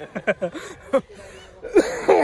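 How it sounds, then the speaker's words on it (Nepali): A few short, harsh coughs burst out in quick succession at close range, followed by breathy throat noises and a couple more rough coughs. "म चाहिँ खोकी चलिहाल्छ फेरि"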